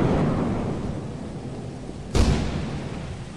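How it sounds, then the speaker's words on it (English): Stormy weather in the video game Lethal Company: a steady broadband roar of rain and wind, with a sudden close thunder crack about two-thirds of the way through that rumbles on afterward. "this is gonna be bad with the storm though"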